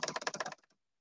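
Quick, close key presses as an answer is typed on a graphing calculator, a rapid run of about a dozen clicks that slows and stops, quiet and alone.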